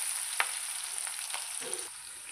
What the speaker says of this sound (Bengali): তো তেলটা গরম হয়ে গেছে, এখন কাটা পেস্টটি দিয়ে দিতেছি।